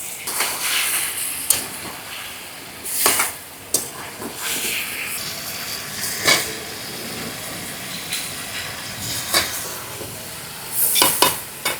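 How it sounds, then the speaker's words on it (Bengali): Washed cauliflower and potatoes tumble into a pan of frying spices for a river rui fish curry, setting off a loud hiss and sizzle with repeated stirring scrapes and clanks, close up and without speech. "এখন ধুয়ে রাখা ফুলকপিগুলো আর আলুগুলো দিয়ে দিচ্ছি"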